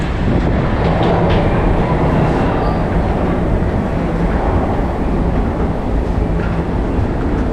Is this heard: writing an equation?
no